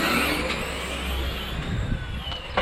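RC short course trucks from the SC class launch side by side in a charity drag race, a loud continuous motor whine and rumble with crowd chatter faintly underneath.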